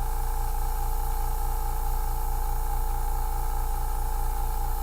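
Steady, continuous hiss of an airbrush spraying paint, close and even, with a low pulsing hum from the compressor underneath and no voices.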